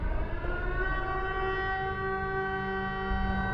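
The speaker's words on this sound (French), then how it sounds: "avec la sirène qui retentit" A loud, sustained civil defense siren in Hong Kong drones steadily with layered harmonic tones, holding a long wailing note without pause.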